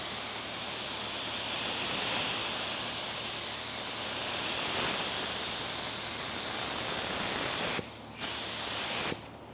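Steady, close hiss of a spray gun laying a coat of paint on a classic muscle car, running continuously with two brief pauses near the end.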